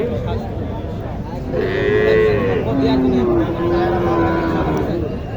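A Sahiwal cow at a cattle market in Naogaon moos in a long, drawn-out low call, then moos again, close by over a steady bed of background noise.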